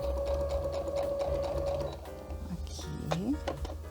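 A sewing machine stitches a lining close to a zipper, its needle drumming in a steady, close rhythm for about two seconds before slowing, followed by a few mechanical clicks and a faint squeak.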